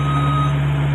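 Truck in reverse gear sounding a loud, steady backup alarm tone over a rumbling engine, close and continuous.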